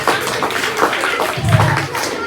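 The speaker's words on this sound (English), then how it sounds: "Give them a big round of applause." A crowd claps steadily in a loud, dense patter of hands that fills the whole moment.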